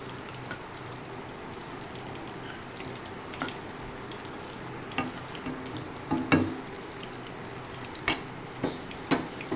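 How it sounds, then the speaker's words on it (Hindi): Pakoras deep-frying in mustard oil give a steady, low crackling sizzle, with scattered utensil clinks and stirring knocks growing more frequent toward the end. "पकोड़े फ्राई हो रहे हैं।"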